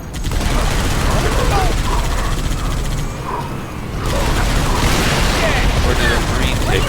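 Gunfire from a firefight in the video game Halo 3 ODST, with dense, continuous bursts of shots and rumbling booms. The shooting stays loud throughout, with a brief lull in the middle before it picks up again.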